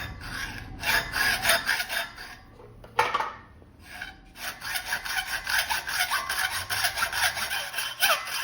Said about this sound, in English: I'm going to cut these two legs with a single cut, that way they can weld together.